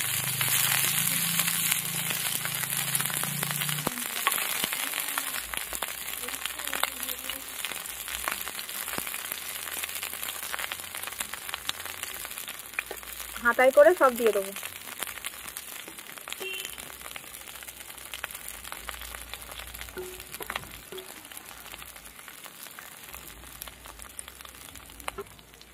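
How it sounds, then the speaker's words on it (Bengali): Capsicums sizzle in hot white oil in a frying pan, a steady crackling hiss that runs the whole time with soft clinks, while a voice speaks quietly over it. "তেলটা গরম করে নেব। ক্যাপসিকামগুলো বসিয়ে দেবো।"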